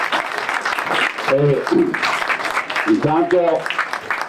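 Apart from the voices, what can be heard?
audience applause at press conference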